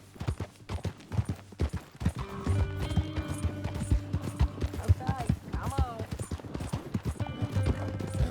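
Horse hooves clip-clop in a steady, rapid rhythm throughout in the video game Red Dead Redemption 2, with someone speaking briefly over the trotting.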